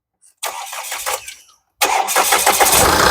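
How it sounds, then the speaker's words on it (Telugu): A 2017 or 2018 Tata Hexa XTA diesel SUV cranks briefly, pauses, then fires up and settles into a loud, close, steady idle. "సింగిల్ సెల్ఫ్ లో బండి స్టార్ట్ అవుతుంది."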